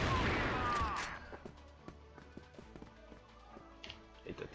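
Gunfire in the video game CrossFire during a ranked match, opening with a loud blast and then a string of sharp, scattered shots and taps spread over a few seconds, with no talking.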